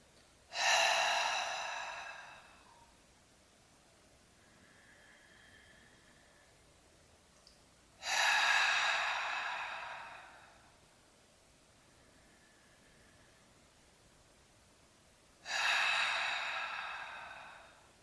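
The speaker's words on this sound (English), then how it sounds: "Take a few clearing breaths, breathing in through the nose, and then out through the mouth." Slow, deep clearing breaths in a yoga grounding exercise, drawn in through the nose and released out through the mouth. Three long, airy breaths, each lasting about two seconds and spaced roughly seven seconds apart, with near-silence between them.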